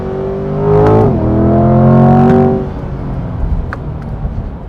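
A 2024 Chevrolet C8 Corvette Stingray 3LT engine revs hard, rising in pitch and sustaining a loud, throaty howl for about two seconds before dropping back to a rumbling idle.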